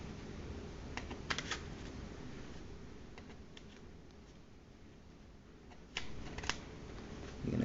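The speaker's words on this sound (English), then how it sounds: "You're gonna cut the threads all in between there while you're stretching it" Scissors snip the threads on a hat brim while the material is stretched, making sparse, light clicking cuts in small clusters over quiet room noise.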